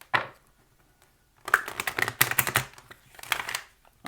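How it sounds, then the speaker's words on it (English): A deck of oracle cards being shuffled by hand: one short riffle near the start, then a dense burst of papery flicks and taps after a pause, and a final flurry, close and fairly quiet with no talking. "I'm going to attempt to free shuffle each time before I just shuffle, like reshuffle and cut the deck"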